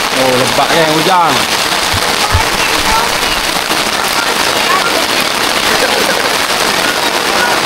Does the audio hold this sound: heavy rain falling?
yes